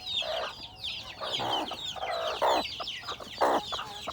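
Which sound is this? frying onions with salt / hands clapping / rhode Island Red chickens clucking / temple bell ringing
rhode Island Red chickens clucking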